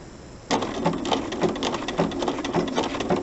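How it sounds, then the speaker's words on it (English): A sewing machine runs a buttonhole stitch along a fabric edge for machine appliqué. Steady, rapid, close mechanical stitching starts after a brief quiet lead-in and continues without pause. "we'll start with our buttonhole stitch"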